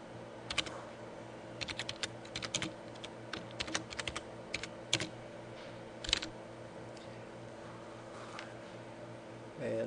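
Fast, irregular clicking of keys on a computer keyboard, quiet and close, with bursts of keystrokes separated by short pauses.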